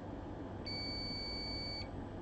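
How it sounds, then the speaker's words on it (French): A multimeter gives a single steady continuity beep, clear and high-pitched, lasting about a second, while probes touch an iPhone XS motherboard during repair; no speech. "Les deux, ils bip, c'est normal."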